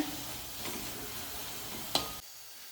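Onions for chicken roast are sautéed on a medium flame, giving a soft, even sizzle and stirring; a single sharp clack near the end comes just before the sound drops to near quiet.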